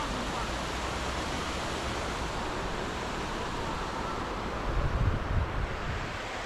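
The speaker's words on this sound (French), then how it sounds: "J'adore le bruit de l'eau de cette rivière." Steady broadband rush of river water flowing by a mountain trail near Ustroń, Poland, constant and fairly close, with a slight swell in the low rumble toward the end; no speech over it.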